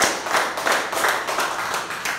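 A church congregation at a Sunday service claps together, a short burst of rhythmic, evenly spaced group clapping that is loud and close, roughly two per second, with no voices heard over it.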